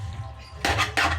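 Biko sticky rice cake with coconut stirred in a pot, two loud close scraping strokes of a ladle against the metal, no talk.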